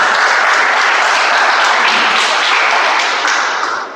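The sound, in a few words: round of applause for the Toastmaster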